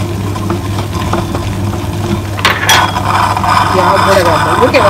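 Onion, ginger and green chilli being stirred and fried in a pan, a steady sizzle with scraping spatula strokes, close and continuous, alongside a constant low hum.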